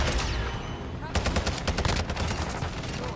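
A Taq V rifle in Call of Duty MW2 fires loud rapid bursts: a brief shot at the start, then a sustained fast volley in the second half, with a voice faintly underneath.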